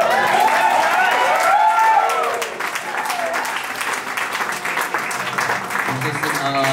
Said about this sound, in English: I think a huge round of applause.